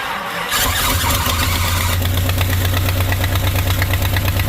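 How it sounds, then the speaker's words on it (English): A 1970 Chrysler Newport convertible's V8 cranks and catches, then settles into a loud, rough, close running rumble with a rapid ticking rasp from a bad exhaust leak. "it's got a real bad exhaust leak, but runs good"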